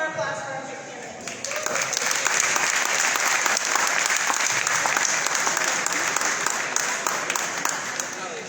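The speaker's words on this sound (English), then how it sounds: "one more applause for our candidates" Audience applause for candidates at a Minnesota Republican gubernatorial debate swells after a brief spoken moment into sustained, dense clapping that carries on steadily to the end.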